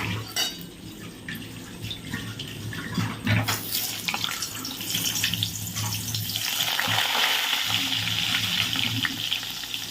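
Chicken frying in a pan keeps up a loud, steady sizzle with stirring scrapes and bumps, a watery hiss mixed in, heard close with no one speaking.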